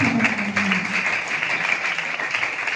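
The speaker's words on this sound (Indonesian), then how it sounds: "Berikan tepuk tangan yang meriah pada kakak-kakak kelas kalian" A crowd applauds the graduating sixth-grade pupils at the farewell ceremony of SD Negeri 4 Sakti elementary school, a dense, steady wash of clapping that holds close and fairly loud throughout, with faint voices underneath.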